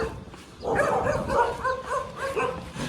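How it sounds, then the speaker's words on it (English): A dog barks and whimpers in a series of short yelps at close range on a road in Vietnam, recorded during a long-distance run, with no talking over it. "another dog came pretty close"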